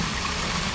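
Water rushes steadily at Mackintosh Falls, a dense, continuous close roar of flowing cascades filling the brief moment without voices.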